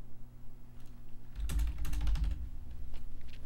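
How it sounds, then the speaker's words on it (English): Fast typing on a computer keyboard, a dense burst of rapid key clicks lasting about a second, close and fairly loud over a steady electronic hum, with quieter scattered keystrokes afterward and no voices. "type like my life depends on it"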